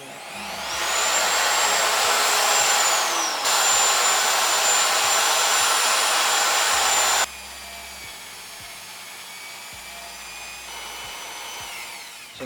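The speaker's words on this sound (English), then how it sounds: "So this seems to be drilling a lot better." A power drill with a titanium-coated bit bores into a car part, a loud high whine running steadily for several seconds, pausing, then resuming a bit lower and quieter.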